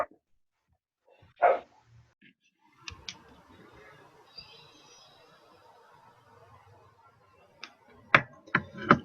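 Small dog barking over an open microphone during an online class, a few sharp barks spaced apart, the last several clustered near the end, over quiet background.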